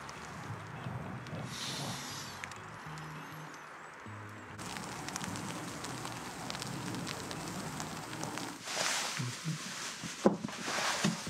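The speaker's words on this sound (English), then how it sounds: "it's not rain, it's the same flies." Sandflies hitting a tent, dense soft pattering like light rain on the fabric, steady throughout with scattered brighter taps; no talking.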